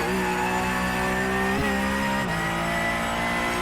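Porsche Cup race car in a racing video game at VIR, engine droning loud and steady under throttle with harmonic whine, pitch dipping briefly around gear changes, no talk.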